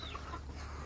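Chickens cluck noisily in a brief, busy burst in a village in northeast India, several birds overlapping at close range.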